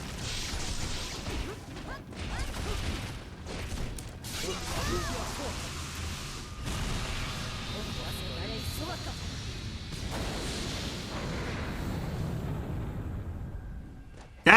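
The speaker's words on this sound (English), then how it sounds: "That explosion is in-game." An in-game explosion in Tekken, a loud booming crash amid a busy stretch of game sounds with clanks and hits, steady and fairly loud throughout.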